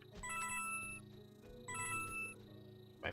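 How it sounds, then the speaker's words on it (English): A phone rings with two bursts of a bright electronic ringtone over background game music, the rings close and clear and spaced about a second and a half apart. "My phone rang a second ago and I was just tapping it"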